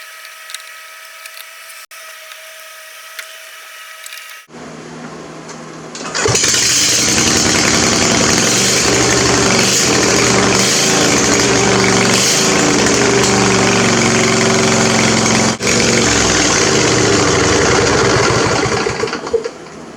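Small Troy-Bilt or Craftsman mower engine with a readjusted throttle cable: a few faint clicks, then the motor catches and runs loud and steady at a fast, even idle right up close, with a brief dip partway through.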